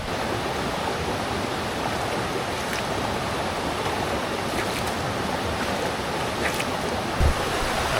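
Water splashing and flowing at a waterside, a steady broadband rush with a few brief brighter splashes and a short low thump near the end, moderately faint and continuous.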